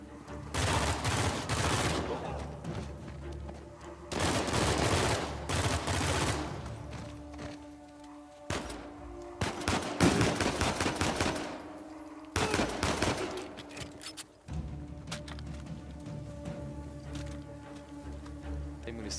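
Rapid gunfire from a gun in the Uncharted 4 video game, loud bursts of automatic shots in several separate volleys with short pauses between them, close and sharp over game sound.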